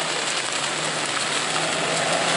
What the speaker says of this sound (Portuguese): Opa, chuvinha maravilhosa aqui em Sobral